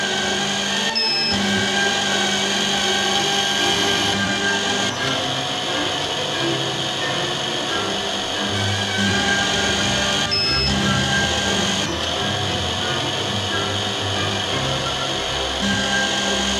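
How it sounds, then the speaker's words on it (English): A DM-200 optical lens drilling machine from Shanghai Link Optical Instruments runs continuously, giving a loud, steady whirring hum with brief interruptions near the start and partway through as it drills holes in lenses. "Press the lever to start drilling."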